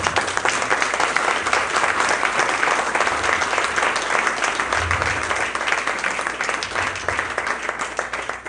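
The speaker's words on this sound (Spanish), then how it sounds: "Un fuerte aplauso" A church congregation gives a loud, sustained round of applause, many hands clapping in a thick, steady roar that carries on for several seconds with faint low sounds underneath.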